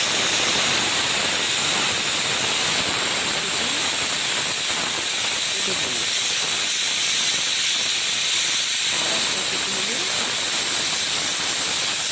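A pressure cooker holding potatoes, carrots and tomatoes releases steam in a steady, loud, continuous hiss that runs unbroken for over twelve seconds, with no voices.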